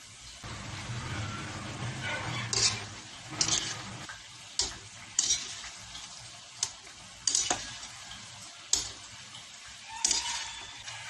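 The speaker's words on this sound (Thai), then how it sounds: "พอน้ำมันร้อนได้ที่เราก็ขนมของเราลงทอดเลยนะคะ" Sesame-coated purple sweet potato snacks deep frying in hot oil over medium-low heat, a soft bubbling sizzle punctuated by about ten sharp clinks and taps of a utensil at irregular intervals.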